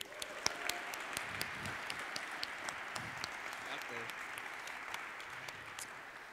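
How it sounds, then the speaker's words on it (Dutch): Applause fills a school hall at a College Tour style interview event, a steady wash of clapping with distinct sharp claps standing out, moderately loud and continuous. "Ik wil graag ook een warm applaus voor Joachim de Vretes."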